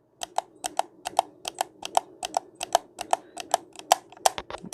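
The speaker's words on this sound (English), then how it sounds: "As soon as I click, that means I'm clicking the RT." Rapid plastic clicks from the RT trigger of a Stadia game controller, a quick irregular run of about twenty sharp, close taps with no talking.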